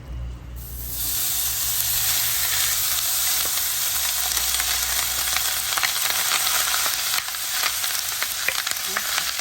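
Food dropped into a hot pan crackles into loud, continuous frying and sizzling after a brief quiet start, staying dense and steady throughout with no talking.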